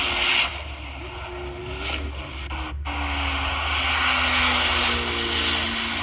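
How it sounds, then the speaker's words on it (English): Purple Corvette ZR1 test car at the Nürburgring heard from a distance, a steady engine drone with a gliding pitch as it passes under broad wind and ambient noise, growing slightly louder toward the end. "that purple car sounded like a ZR1"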